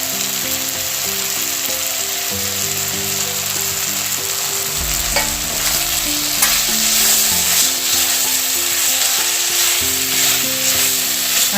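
Cashews and watermelon seeds being sautéed with cooked tomato and onion in a pan, a steady close sizzle with repeated scraping stirs and low rhythmic clatter throughout, no talking.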